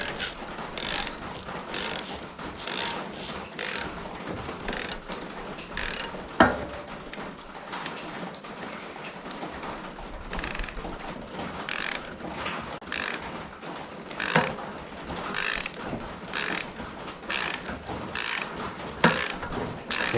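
A socket wrench turns a bolt on a track tension spring, giving repeated ratcheting clicks in steady bursts close by, with a louder metallic clank partway through and no talk.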